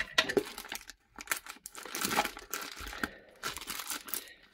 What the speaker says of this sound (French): Donc, on va ouvrir celui-ci.